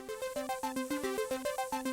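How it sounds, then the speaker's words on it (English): A gritty synthesizer lead from a modular synth plays a quick repeating step sequence of bright, buzzy plucked notes in a steady bouncing rhythm, clear and alone without any voice. "add some grit to the leads, which sound like this"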